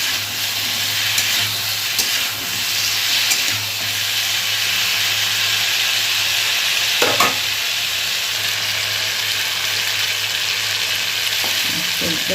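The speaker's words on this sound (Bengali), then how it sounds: "একটু নাড়াচাড়া করে ভালো করে" Gati kochu (taro) curry is stirred in a frying pan: a loud, continuous hiss of frying fills the scene, and occasional spatula scrapes stand out against the steady sizzle, close by and without voices.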